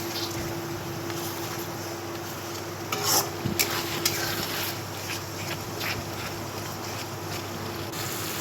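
Spice mix with chilli powder and garam masala frying in a pan for a potato and pointed gourd dish, with a steady close sizzle and a few sharper scraping stirs midway.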